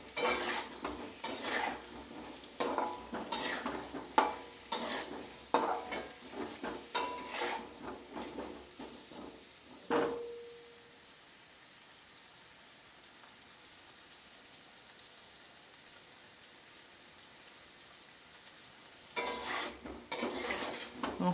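Potatoes being stirred with turmeric in a pan, repeated scraping and clinking strokes for about ten seconds, then a sharp ring followed by near silence, and the stirring resumes briefly at the end.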